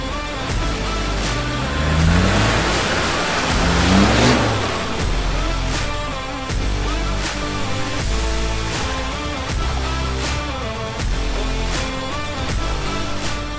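A four-wheel-drive off-road vehicle engine revs hard, rising and falling in loud surges, then settles into a steady rumbling drone with repeated throttle blips.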